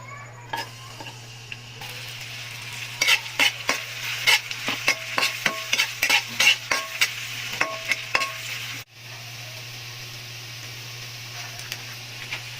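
Ginger and onion frying in oil in a pan, sharp rapid clacks of a utensil stirring against the pan over a low steady hum, then a quieter sizzle after the stirring stops.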